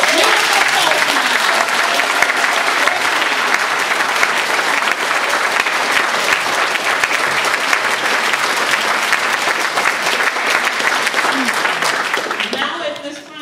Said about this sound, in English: Susan, two rounds of applause.